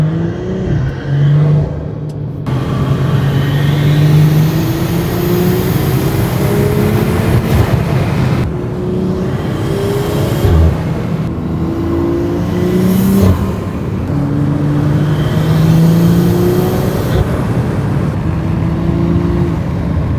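A BMW M340i with a big turbo tuned on E85 accelerates hard, its engine note rising loud and close through repeated climbs, broken by sharp downshifts and throttle blips that drop and re-raise the pitch.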